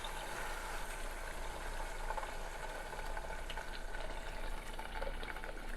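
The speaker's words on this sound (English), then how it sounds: "So it's been frying for 5 minutes." Steady, even sizzling and crackling of meatballs frying in a pan, a continuous hiss at moderate volume with no voices.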